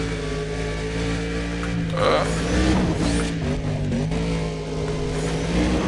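A car accelerating in Need for Speed: Undercover, its engine tone rising steadily and loud throughout, with harmonic bands climbing in pitch as it picks up speed, alone without talk.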